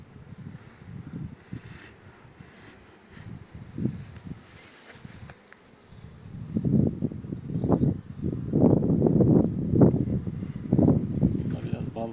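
Carniolan honey bees humming around a spring hive split, a low droning buzz that swells and grows denser partway through, with wind noise and a voice talking over it.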